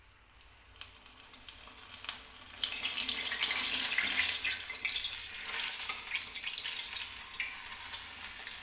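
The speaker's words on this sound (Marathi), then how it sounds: "आता हा जो वडा आहे तो तेलामध्ये अलगच सोडायचा आहे" Medu vada, a urad dal fritter, slipped into hot oil: a quiet background becomes a steady, hissing sizzle that swells after a few seconds and then holds on without a break, with no voices.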